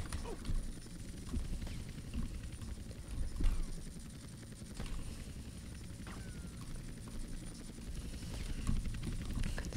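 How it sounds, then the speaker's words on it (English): Rotor chop from a helicopter in the video game GTA Vice City, a steady low thudding drone that runs throughout at moderate level beneath other game noise. "This is like fighting that helicopter in Metal Gear Solid."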